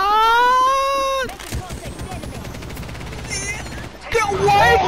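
Rapid gunfire bursts from the video game Apex Legends, loud and clustered, with a sustained tone and clatter at the start and a burst near the end, while a player shouts and voices mix in throughout.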